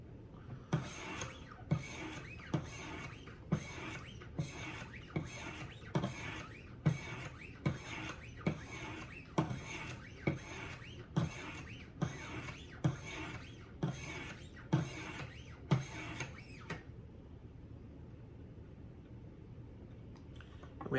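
The left side of a knife is sharpened on a Wicked Edge Go sharpener, with about fifteen regular rasping strokes of stone on steel, close and quiet, that stop near the end and leave a faint hush.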